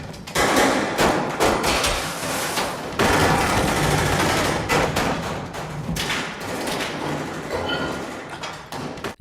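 Gunfire from a police shootout in a film about counterfeit money makers, loud and dense bursts of shots and heavy thuds packed together over the whole stretch, with no talk.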